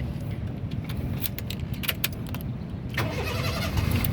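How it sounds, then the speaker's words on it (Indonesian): A 2006 Honda City 1.5 VTEC automatic cranks and starts up close, with a short rattle of keys before the engine catches and settles into a steady idle. "Nah, sekarang kita coba nyalakan mobil."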